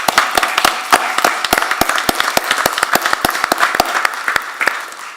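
A small audience at a school district board meeting claps for the federal programs and finance team, sharp individual claps ringing out in an uneven, moderately loud patter that carries on without letup.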